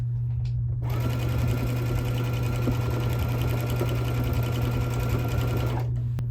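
A sewing machine runs steadily for about five seconds as it stitches binding onto a quilt, a close, loud, even mechanical whir with a constant low hum, then stops abruptly.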